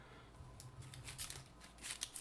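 One Piece trading cards being shuffled by hand, producing a series of crisp, quiet riffling and snapping bursts close up, with no voices.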